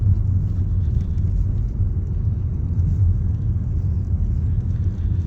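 Car traffic on a busy city street in Dnipro in December: a steady, dense low rumble of passing vehicles, continuous and fairly loud, with no distinct voices.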